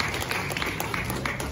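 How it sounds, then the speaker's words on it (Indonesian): Brief audience applause at an ecotourism talk show, a steady patter of many hands clapping at moderate volume with no talk over it. "Berikan tepuk tangan yang meriah Daim Usman"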